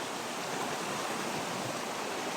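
A creek flowing outdoors, a steady broadband rush of water that stays even and unbroken for the whole moment, with no voices.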